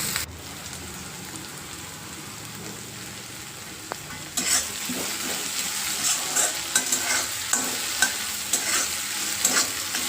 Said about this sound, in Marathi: सगळं एकत्र करून चांगलं भाजून घ्यायचे